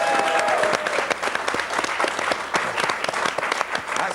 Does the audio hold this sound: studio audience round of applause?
yes